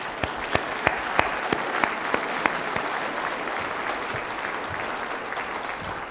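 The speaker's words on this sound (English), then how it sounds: "Let's give all the awardees one more round of applause." Sustained applause from an audience at a university Founders Day awards evening honoring awardees, steady and broad for about six seconds with a few sharp individual claps standing out early on.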